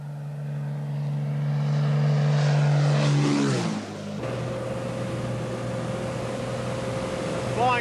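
A top dressing aircraft drones loudly with a steady propeller engine tone that shifts pitch as it eases into a gentle descent over a farm paddock, the note dropping abruptly midway and then holding at a lower, rougher hum.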